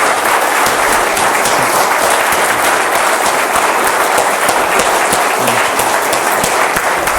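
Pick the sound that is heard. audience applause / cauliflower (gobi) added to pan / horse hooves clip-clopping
audience applause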